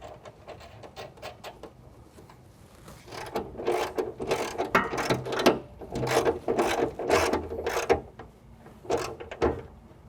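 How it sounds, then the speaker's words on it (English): Hand ratchet tightening a 10mm nut with flat and lock washers onto a heim joint on a Jeep JK rear bumper tire carrier, giving bursts of close, dry clicking and rasping strokes that grow louder midway, with no talk. "now we're going to tighten our heim joint that we've made our adjustments"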